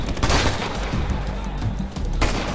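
Suppressing gunfire in the video game Ghost Recon Future Soldier: a dense, continuous volley of sharp shots and booms fills the whole stretch, with a player's voice talking over the firefight.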